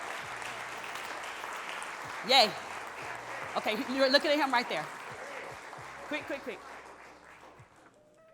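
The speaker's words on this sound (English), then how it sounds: "Let's give them another round of applause." An audience at a State of the Schools address claps in a steady wash of applause, with a few people speaking and cheering close over it.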